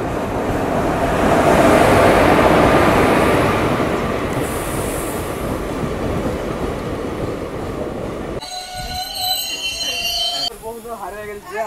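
A crowded Lalgola–Sealdah local train rumbles along with a loud, steady roar that slowly fades, then gives way to clattering and squealing near the end.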